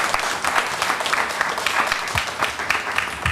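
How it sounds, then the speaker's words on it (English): Conference audience applauding for the chairman, a dense, lively burst of many hands clapping, fairly loud and continuous across the short stretch with no talk over it. "A huge round of applause for our beloved chairman."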